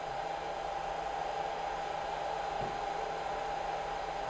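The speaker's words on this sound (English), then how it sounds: "after heating is completed, the time window display END, end of heating, and machine will cool down by vacuum cooler" A BGA rework station cools down after its heating cycle with its vacuum cooler, giving a steady, constant fan-like whir and hiss with a sustained hum throughout.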